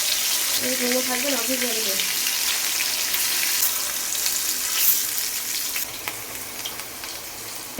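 Potatoes fry in a pan for biryani, with a steady bright sizzle throughout; a voice speaks briefly near the start over the hiss, and soft stirring clicks surface later.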